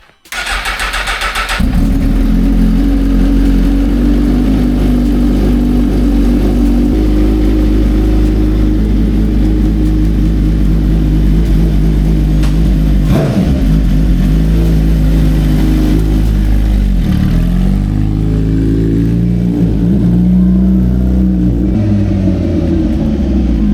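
A rebuilt, previously wrecked Suzuki GSXR1000R sportbike cranks over and fires up loudly at close range, then idles with a steady roar and swells through several throttle blips and revs, with no talk over it.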